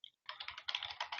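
Short burst of keyboard typing at a computer command line, a quick run of soft, fairly faint keystrokes after a single opening click.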